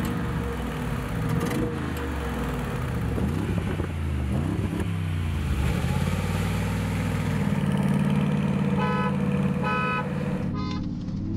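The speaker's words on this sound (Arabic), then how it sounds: "طيب عندك العد على الهرن" A Mercedes G63 and a Bentley Bentayga V8 idle side by side before a drag race; a loud, steady engine rumble fills the scene, then a series of short, evenly spaced horn toots sounds near the end as a countdown.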